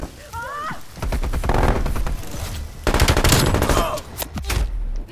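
Loud bursts of automatic gunfire in the video game Call of Duty Cold War, two dense rattling volleys with brief gaps and some game sounds in between.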